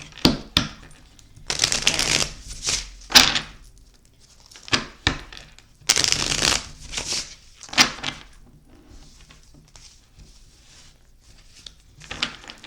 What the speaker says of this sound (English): They shuffle really good